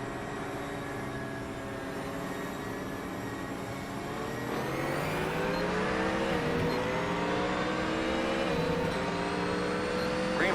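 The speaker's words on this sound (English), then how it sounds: "Love the sound of them Ford Mustangs." Ford Mustang race cars in a NASCAR racing video game roar off at the green flag, a dense pack of engines rising steadily in pitch as they accelerate together, loud and continuous.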